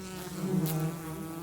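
Wild bees buzzing close by at blackberry blossoms, a steady droning hum that swells slightly midway through the short stretch with no voices.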